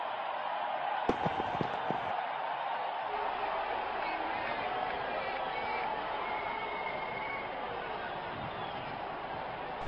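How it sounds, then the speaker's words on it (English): A stadium crowd in the mobile cricket game Real Cricket 20 roars in a loud, continuous wash of cheering after a big hit, with a few sharp knocks early on and a commentator talking over it. "Crowd is going crazy."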